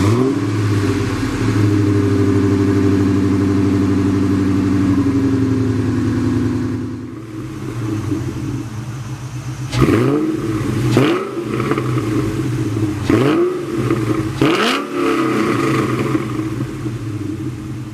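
A 2003 Ford Mustang Mach 1 idles with a loud, deep exhaust rumble, then after a brief lull it is revved in several sharp throttle blips that rise and fall, close and strong with no talk.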